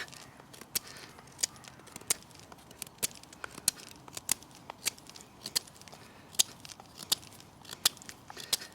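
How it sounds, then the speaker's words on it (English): A knife carves a point on a freshly cut hazel stick outdoors in winter woodland, making a steady series of sharp, close whittling cuts, each a crisp snap or shave, repeated roughly every half second against quiet surroundings. "Just going to make a point on this hazel I cut down"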